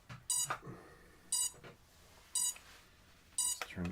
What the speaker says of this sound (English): That beep means we just lost our connection